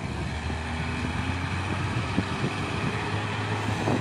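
A heavy truck drives with a constant low engine drone and rumble on a hill road, steady and close throughout with faint knocks, no voices.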